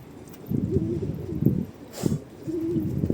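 A young pigeon gives a couple of low, throaty coos in a coop, close and fairly soft, with a brief scuffing noise between them.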